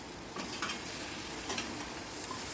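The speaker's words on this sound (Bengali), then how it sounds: "অনবরত কিন্তু নাড়তে হবে, খুন্তি নাড়ানো বন্ধ করা যাবে না," A spatula stirs spice paste frying in a pan over medium-low heat, a steady close sizzle with soft scraping strokes throughout.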